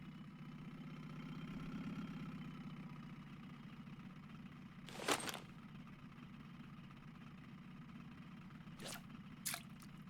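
Steady low boat engine drone in the Russian Fishing 4 game, idling throughout with a few brief splashy bursts over it.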